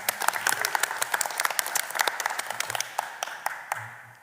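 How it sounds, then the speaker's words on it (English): Applause breaks out for medical care workers at a Philadelphia civic gathering, dense clapping from a crowd that stays steady, then thins into scattered claps near the end. "let's give them a round of applause"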